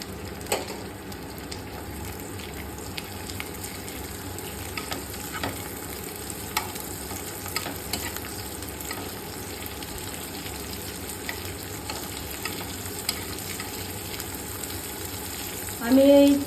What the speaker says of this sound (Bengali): আমি একটা ফ্রাই প্যানে একটু তেল নিয়ে নিয়েছি, এর মধ্যে আমি একটা লঙ্কা ফাটিয়ে দিয়ে দিলাম